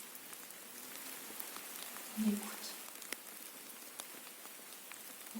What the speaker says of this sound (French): on entend le bruit que fait la pluie sur nos feuilles